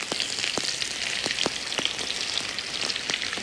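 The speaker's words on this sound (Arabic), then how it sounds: "حناخذ البصل الجوانح وحنشوحهم في السمن" Onions sautéing in melted ghee in a pan, a steady close crackling sizzle with sharp pops and spits scattered throughout, no talk.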